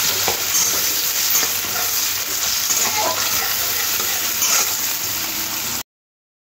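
Sliced onions fry lightly in a pan with black cumin seeds, giving a steady close crackle and hiss with occasional stirring scrapes, before the sound abruptly drops to silence.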